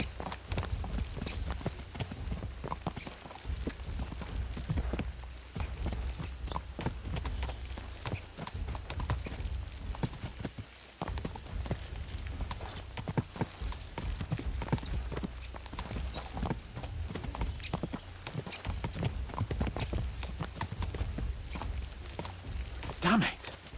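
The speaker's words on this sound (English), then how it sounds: "Let's really spur these horses on, eh?" Horses' hooves clip-clop steadily in Kingdom Come: Deliverance 2, a dense continuous trot lasting the whole stretch with occasional whinnies and a voice talking over it.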